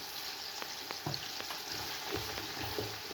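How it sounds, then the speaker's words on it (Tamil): Continuous sizzling of salted onions frying in hot oil for chicken biryani, with occasional scrapes and stirring taps, close up and steady, no voices. "வெங்காயம் தாளிக்கிறதுக்கு கொஞ்சம் உப்பு போட்டால் தான் கொஞ்சம் நல்ல வடிவாக தாளித்து வரும்."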